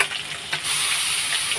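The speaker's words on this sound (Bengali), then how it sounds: "এদিকে মাছ ভাজা আছে, পাঁচটা মাছগুলো ভাজছে।" Five fish fry together in a pan with a loud, continuous close sizzle and a soft clink near the start, with no voices.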